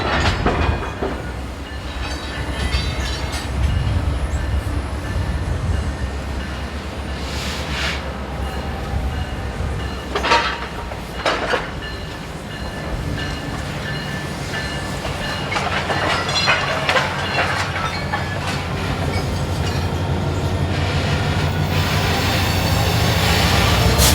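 CPKC freight K66 rolls past a rail junction near Rockford East in northern Illinois, a steady mid-distance rumble with clickety-clack of wheels over joints and scattered metallic clanks, growing louder toward the end.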